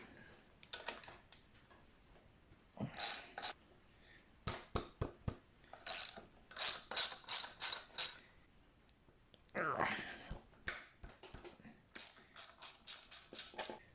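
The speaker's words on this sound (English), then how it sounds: "Let's do this with a ratchet. So 3/8." A 3/8-inch ratchet works loose the bolts on a 1975 Evinrude 9.9 hp outboard powerhead, giving close, sharp clicking bursts in quick rhythmic runs with short pauses between strokes.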